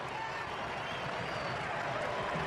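German fans roar in a packed stadium right after a goal against the USA at a World Cup match, a dense, steady wall of crowd noise holding loud throughout.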